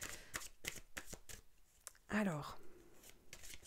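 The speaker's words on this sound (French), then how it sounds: "je tire une dernière carte des commandes à l'univers" Oracle cards being shuffled and handled, a few soft riffling bursts followed by a sharper flurry, close and fairly quiet, with someone speaking French briefly over it.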